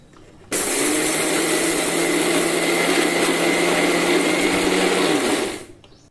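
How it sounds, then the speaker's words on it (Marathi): A mixer grinder grinds sugar with green cardamom, starting abruptly and running at a steady, loud whir for about five seconds before cutting off and winding down, with no talking. "मिक्सरला हे आपल्याला छान असं वाटून घ्यायचे साखर बारीक करून घ्यायची आहे"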